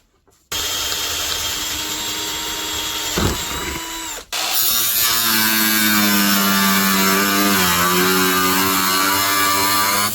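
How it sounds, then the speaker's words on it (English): A power drill whirs loudly, stops briefly, then starts again with a steady high-pitched motor whine that dips in pitch as it bites while drilling holes. "drill some holes in this"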